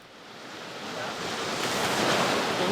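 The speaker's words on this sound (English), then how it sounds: "the sound of melting water rushing off the glacier turned into a roar" Meltwater rushing off a glacier in a roaring torrent, a dense broadband wash of water that swells steadily louder and stays close and continuous.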